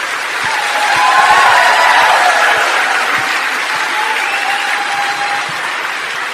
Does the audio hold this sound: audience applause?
yes